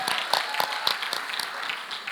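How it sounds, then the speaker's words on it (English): Continued applause at a university long service awards ceremony, with crisp, fairly close individual claps standing out over a softer crowd patter. "Please keep the applause going."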